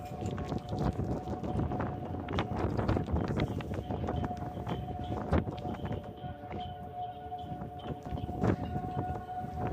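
Wind roars and howls in rising and falling gusts through the Royal Gorge gondola, a rumbling, train-like drone with scattered rattling knocks of shaking chains.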